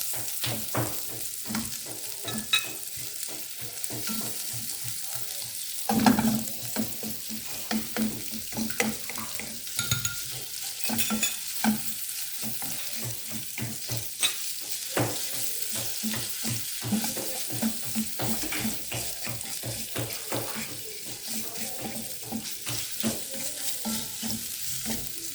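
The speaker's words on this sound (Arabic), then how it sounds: "غادي نخليو البصله تشحر" Onion and minced-meat kofta fry in oil in a pan with a steady, close sizzle, broken by frequent stirring scrapes and clinks; one louder clatter comes early on, and no one speaks.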